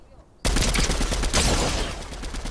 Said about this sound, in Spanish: Le di un par de tiros